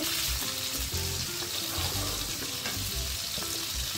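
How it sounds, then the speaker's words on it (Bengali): Pointed gourds (potol) frying in oil in a wok, a steady bright sizzle with bubbling and occasional low knocks, close and loud, no speech. "কড়াইতে তেল দিয়ে আস্তে আস্তে পটলগুলোকে একে একে করে ভেজে তুলে নেব।"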